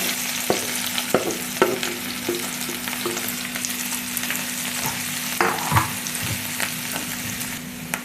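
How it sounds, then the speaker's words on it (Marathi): Mashed potato with mustard seeds and turmeric fries in hot oil, giving a steady loud sizzle throughout with repeated spoon scrapes and stirring knocks against the pan, close up and with no voices. "तेल गरम झालं आपलं आपण मोहरी टाकून घेऊ पाव चमचा हळद टाकून घ्यायचे मॅश केलेला बटाटा टाकून घ्यायचा"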